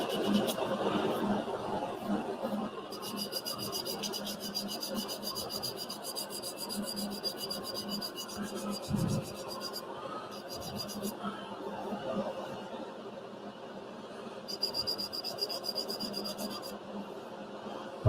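A wooden scoop turned on a lathe is hand-sanded with 240 grit sandpaper, making continuous close rubbing and rasping with long steady strokes, accompanied by a high whine that comes and goes in the background.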